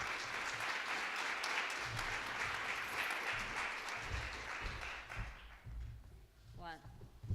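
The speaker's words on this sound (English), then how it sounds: "So without further ado, a round of applause for Dr." A symposium audience applauds a speaker being welcomed at a women in science event, with loud, dense, sustained clapping that fades out after about five seconds, followed by a voice beginning to talk.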